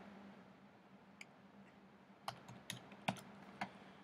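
Several quiet keystrokes on a computer keyboard as a password is entered, a sparse irregular run of soft clicks over faint room hum, no voices.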